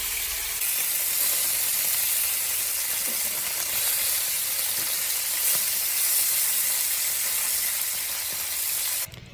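Fish and pointed gourd fry in hot oil, giving a loud, steady sizzle and hiss that holds unbroken for about nine seconds and then cuts off abruptly.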